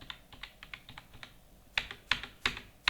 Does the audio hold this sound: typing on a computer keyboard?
yes